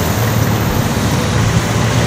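Steady roar of street traffic on Padre Burgos in Manila, with cars, buses and trucks passing continuously at close range, a loud, dense rumble throughout with no voices.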